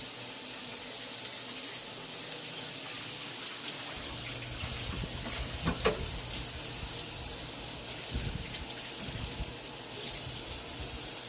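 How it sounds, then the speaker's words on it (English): Water runs steadily from a kitchen tap while hands are rinsed under it during home cooking, a constant hiss with brief splashy bursts as the hands move through the stream. "Let me wash my hands off."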